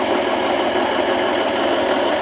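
Vevor sewing machine winding a bobbin, running at a steady fast rhythmic whir with a mechanical knocking pulse, close and continuous with no talking.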